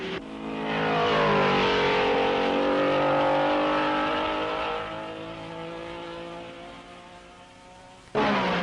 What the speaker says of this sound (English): But back to the racing, and it's Von Trips in the lead